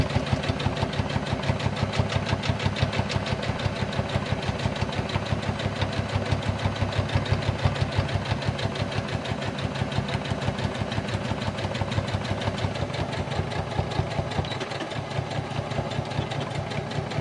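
A sewing machine stitches a make-up bag in a fast, even, continuous run of mechanical needle pulses, close and steady throughout, with no talking.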